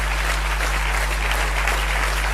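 An audience at a French political party's federal council applauds its members of parliament, a steady, dense wash of clapping that holds evenly for the whole stretch over a low electrical hum.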